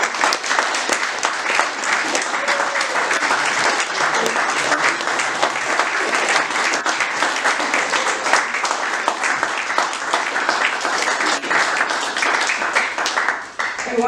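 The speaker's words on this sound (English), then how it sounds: "Round of applause for our gang." Audience at a library celebration of Steve Durkee's Moby-Dick poems bursts into loud, sustained applause, dense hand clapping that continues for over ten seconds before dipping briefly near the end.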